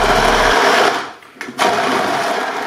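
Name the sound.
immersion blender blending fish soup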